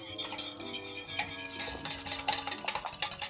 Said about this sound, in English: Now we're gonna whisk that until it forms stiff peaks.